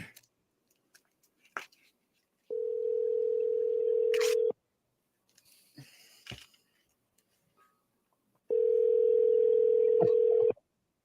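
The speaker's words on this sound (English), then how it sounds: "we're going to call Lape live on the phone" Outgoing phone call ringback: two long, steady electronic ring tones, each about two seconds, separated by a gap with faint rustling and brief mouth noises, heard clearly and close.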